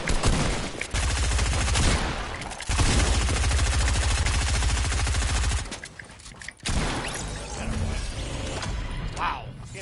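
Loud, rapid automatic gunfire in the Fortnite video game comes in two long, dense bursts separated by a brief gap, then a quieter stretch with scattered shots and mechanical clicks.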